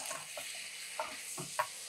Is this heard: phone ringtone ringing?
no